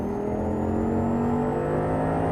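An Audi R8 engine pulls steadily on the throttle through a corner, a loud, continuous close-up drone with a smoothly rising tone and no break or voices over it.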